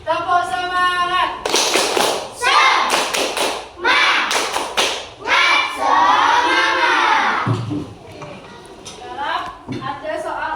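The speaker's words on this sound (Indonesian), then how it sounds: "Kita tepuk semangat. Tepuk semangat." A school class performs a rhythmic spirit clap routine, sharp group claps and taps in quick patterned bursts mixed with children's chanting and shouting, loud and close throughout.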